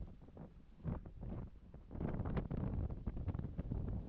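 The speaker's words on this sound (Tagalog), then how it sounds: "Lakas ng hangin mga kabisig." Strong wind buffets the microphone in heavy, irregular low rumbling gusts that swell louder partway through and stay rough and continuous.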